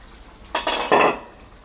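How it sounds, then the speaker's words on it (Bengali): A metal lid lifted off a pot of river poma fish curry cooked with green banana, giving a couple of short clanking scrapes, close and fairly loud, then fading. "এখন ঢাকনাটা তুলে ফেলি।"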